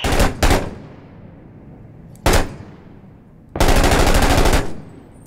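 Machine gun fire in a realistic first-person shooter, heard as three loud, close bursts: two quick ones at the start, a single short crack in the middle and a longer sustained rattling burst near the end, with quieter gaps between them.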